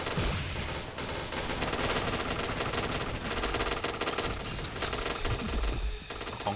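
Sustained rapid automatic gunfire from a light machine gun in the video game Point Blank, dense and continuous with game-like effects layered over it, loud throughout.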